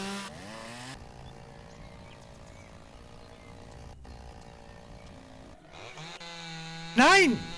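A chainsaw cutting into a tree in the logging game Lumberjack's Dynasty, a steady buzzing engine drone running through most of the clip, followed by a short loud burst near the end.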